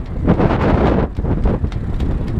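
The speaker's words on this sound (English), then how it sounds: "It's very windy today." Strong gusts of wind buffet the microphone beside a boat in loud, rumbling bursts, rising and falling with brief lulls between.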